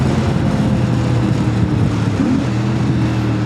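A stock-exhaust CFMOTO 450MT motorcycle engine idles with a steady, loud low rumble and even throb that continues alone throughout, with a brief rise in pitch partway through.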